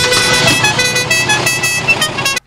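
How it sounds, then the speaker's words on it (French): A car horn playing the La Cucaracha tune, a loud, bright series of musical honks in a quick melodic rhythm, close up, cutting off abruptly at the end. "le klaxon qui te fait la cucaracha"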